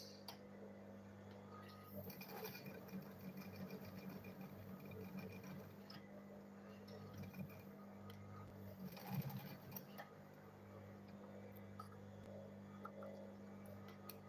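A sewing machine stitches fabric for a homemade lunch bag, a faint steady mechanical hum running throughout with slight surges and no voices.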